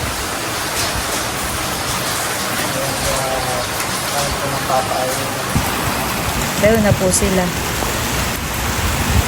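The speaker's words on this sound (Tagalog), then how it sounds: "Grabe lakas ng ulan." Heavy rain pours down in a dense, steady hiss and patter, with a person speaking briefly beneath the downpour.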